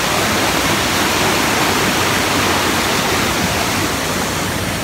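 A steady, loud roar of rushing water from Oimarai waterfall on Mount Tambora, Indonesia, continuous broadband noise with no pauses and no voices.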